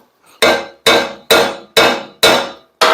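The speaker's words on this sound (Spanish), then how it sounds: "Después de aplicar la soldadura, le damos martillo" A hammer strikes a freshly welded steel leaf spring from a rear spring pack, six sharp, loud metallic blows landing in an even, steady rhythm, each ringing out briefly before the next.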